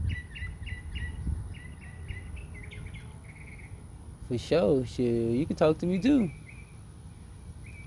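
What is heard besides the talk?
birds chirping outdoors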